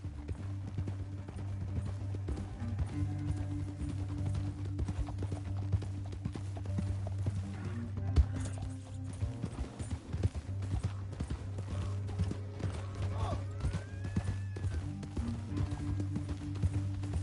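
Horse hooves clip-clopping in a canyon in a PS4 western game, a steady moderate-paced trot over a constant low drone of game ambience, fairly quiet and with no talk.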